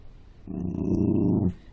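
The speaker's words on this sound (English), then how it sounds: "excuse the dog for being such a fuss pot over there" A dog gives a single low, rumbling growl lasting about a second, fairly close and moderately loud, in an otherwise quiet room.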